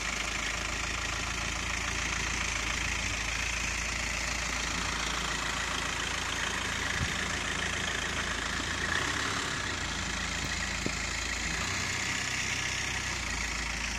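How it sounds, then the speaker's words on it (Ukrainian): Volkswagen Passat B5 engine running steadily at idle, a continuous even hum with a faint knocking texture, moderately close with no talk. "Ну Реально двигатель дуже-дуже класно працює."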